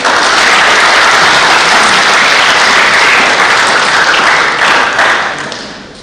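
An audience at a public speaking competition breaks into loud, dense applause that holds steady for several seconds before fading toward the end, with no voices over it.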